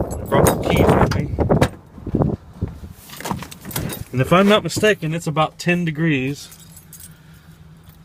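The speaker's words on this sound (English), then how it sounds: "I brought the keys with me." Keys jangle in hand around a 2000 Ford F350 ambulance during a walkaround, the metallic clinking mixed with someone talking nearby, with a low steady hum underneath.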